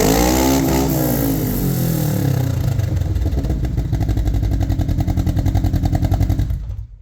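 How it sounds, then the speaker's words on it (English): A Kawasaki KRX 1000 side-by-side engine fitted with an aftermarket exhaust revs up loudly from idle, climbs and holds a rough, pulsing high rev, then cuts off abruptly at the end. "Give her a good rev."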